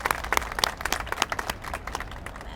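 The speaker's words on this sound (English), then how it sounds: "So let's give them a round of applause." An audience at an outdoor sculpture unveiling claps in brief, scattered applause that quickly thins out, moderately close.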